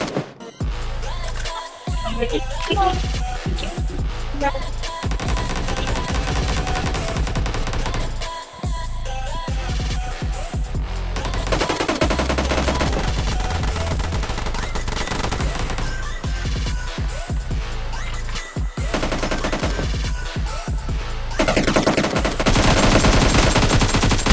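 Sustained automatic gunfire from BGMI (PUBG Mobile) gameplay: loud, dense bursts of rapid shots with a few brief gaps, continuing almost without pause for the whole stretch and growing heavier toward the end.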